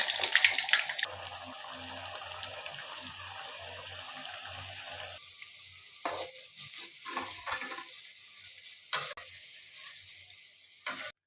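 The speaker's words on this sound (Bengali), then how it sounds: "আমি এখন একটা একটা করে তেলে ছেড়ে দিলাম" Chicken rolls are dropped one by one into hot oil and fry with a dense, steady hiss and crackle that fades to softer, scattered sizzling pops, with no speech.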